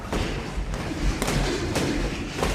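During a boxing sparring session, dull thuds of gloved punches land again and again against a loud, roomy background.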